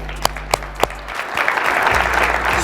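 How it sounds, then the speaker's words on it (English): A crowd claps for the under-35s at a talk. A few sharp single claps come first, then fuller applause swells and continues at moderate volume. "Let's clap it up for the youngsters."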